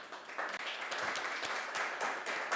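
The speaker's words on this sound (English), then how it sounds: "I'm the only one applauding here in this studio" A lone person applauds in a studio during an online sustainability transitions conference, quiet, steady clapping close by.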